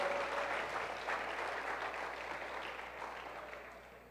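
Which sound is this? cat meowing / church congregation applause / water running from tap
church congregation applause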